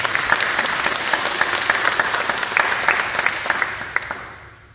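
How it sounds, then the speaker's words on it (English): A crowd at a veterans memorial service in Deer Park breaks into loud, close applause with distinct individual claps popping out of the steady roar, then it gradually thins and fades away. "let's give them a round of applause."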